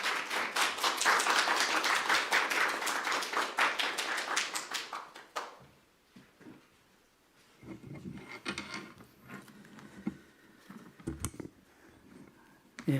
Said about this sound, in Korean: 나오실 때 크게 박수로 환영해 주시면 감사하겠습니다